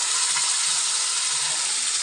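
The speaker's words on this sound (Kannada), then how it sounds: "ಈರುಳ್ಳಿ, ಈಗ ರುಬ್ಬಿಡ್ಕೊಂಡಿದ್ವಲ್ಲ, ಏನೇ ನೆನೆಸಿದ್ವಲ್ಲ ಅದು ರುಬ್ಬಿಡ್ಕೊಂಡಿದ್ನ ಇದಕ್ಕೆ ಸುರಿತಾ ಇದ್ದೀನಿ." Ground soaked onion paste goes into a sizzling curry leaf tempering for a curd sambar, producing a loud, even, hissing sizzle that holds steady for the whole moment without speech.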